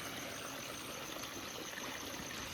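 Water from the Shevate waterfall and its stream rushes in a steady, unbroken hiss, faint and distant, with no voices over it.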